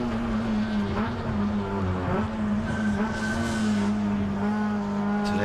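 A race car laps a circuit on a wet track during a 2018 MCS round 2 race, its engine holding a loud, steady tone with small shifts in pitch as it accelerates and lifts through corners.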